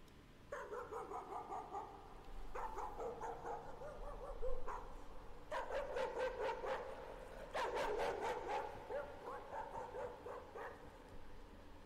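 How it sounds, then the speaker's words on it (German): Aggressive dog barking in the horror video game Layers of Fear, coming in repeated bursts of loud, harsh barks with short pauses between them and no talking. "Der Hund wirkt so krass aggressiv."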